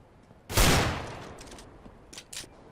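A burst of gunfire in the video game CS:GO erupts and decays in a rolling echo, followed by a couple of fainter distant shots.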